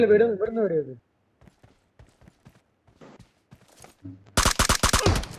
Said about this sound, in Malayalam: അതാ വെടി വരുന്നുണ്ട്